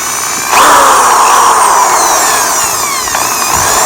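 A DeWalt cordless drill with a freshly replaced gear spins up loudly and runs at a steady, even whine close by, the pitch drifting slightly as it holds speed for several seconds.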